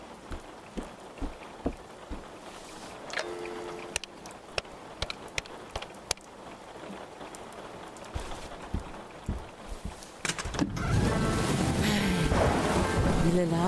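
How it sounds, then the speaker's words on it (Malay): Rain falling steadily in an animated scene, with sharp hits and rumbles through the first part before a loud, dense downpour with thunder takes over near the end. "Bilalah hujan nak berhenti."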